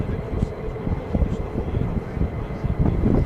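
Military jets flying at night around RAF Lakenheath give a distant, rumbling low roar that rises and falls, with wind buffeting the microphone.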